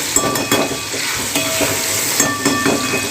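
Bananas frying in a pan for prasad sheera, a steady close sizzle with intermittent stirring scrapes, heard alone.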